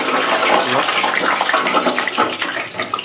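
Oil roars in a loud, dense, continuous hiss as food deep-fries in a busy cloud kitchen making Kolkata-style Chinese dishes, with a voice talking over it.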